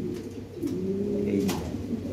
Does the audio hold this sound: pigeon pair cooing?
yes